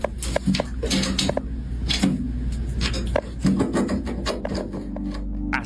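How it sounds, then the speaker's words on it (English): Frantic scraping and crawling against a metal air vent in a ceiling, heard as a continuous rasping, rubbing texture broken by sharp knocks and scuffs, fairly close and steady throughout. "they suddenly hear these crawling noises, like if something up in the ceiling is desperately scraping against metal"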